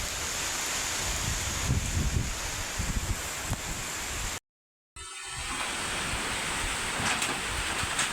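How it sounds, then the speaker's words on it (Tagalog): Strong, roaring typhoon wind in the Philippines buffets the microphone without letup, with a brief dropout midway before the gusting rush resumes. "Dahil sobrang lakas ng hangin"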